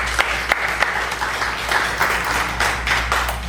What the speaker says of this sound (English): please help me in giving a round of applause to Javier and his staff